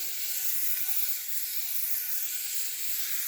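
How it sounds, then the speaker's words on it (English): Butter sizzles steadily in a hot stainless steel pan, a soft, even hiss close by, with no talking over it. "So we're getting sizzle, but there's no burning."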